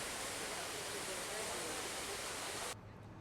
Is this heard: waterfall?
yes